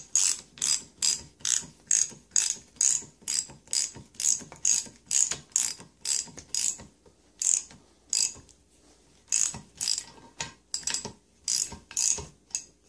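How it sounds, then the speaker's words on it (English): A regular wrench is spun quickly to run cylinder head bolts into a 7.3 engine, giving a loud, close, steady series of sharp ratcheting clicks in rapid bursts with only a brief pause near the end. "we'll spin it in with a regular wrench this time."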